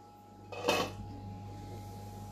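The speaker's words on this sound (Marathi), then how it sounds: "आपण आता झाकण उघडून पाहूया." A metal lid is lifted off a cooking pot of rava in sugar syrup for sooji ladoo, giving one short clink and scrape near the mic, then quiet kitchen hum.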